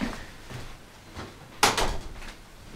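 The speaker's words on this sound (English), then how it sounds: "close my door so you don't hear a lot of sounds" A few soft handling knocks, then a sharp thump as a door shuts, followed by a short rattle and settling sounds.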